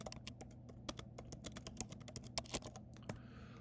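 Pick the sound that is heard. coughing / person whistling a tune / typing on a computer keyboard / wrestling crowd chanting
typing on a computer keyboard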